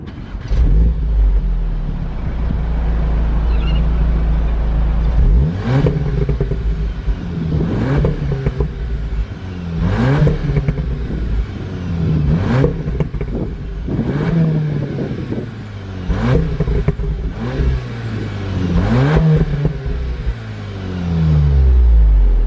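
A Volkswagen Golf R engine with standard exhaust revs repeatedly, rising in pitch and falling back to idle about every two seconds, loud and close with a smooth, moderate exhaust note.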